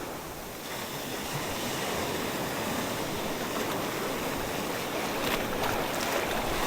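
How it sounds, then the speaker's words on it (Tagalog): A steady, dense wash of big ocean waves and surf roars close by at a fishing spot, continuous and even with no voices. "kasi malalaki alon."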